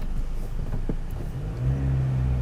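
A Ford Ranger FX4 in four-wheel drive climbs a sand trap. Its engine rumbles under load and then revs up into a steadier, louder drone, heard close from inside the truck.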